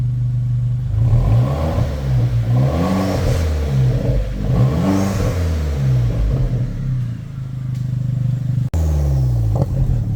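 A Vauxhall Corsa VXR Nurburgring Edition revving close up with the exhaust centre section disconnected so it runs almost as a straight pipe: loud, raw engine blips rise and fall repeatedly, with a brief cut near the end, and no talk.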